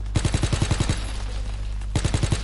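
Automatic gunfire in the Call of Duty WW2 video game: a rapid burst of about eight close, sharp shots, a brief pause, then a second burst of five or so, loud and alone.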